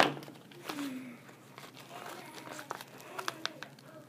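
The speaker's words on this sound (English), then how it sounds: "No, it's bubble wrap." Plastic bubble wrap packaging crinkles and rustles as a dollar store craft box is unboxed, with scattered crackles and a few sharper pops close by, and a voice talks briefly near the start.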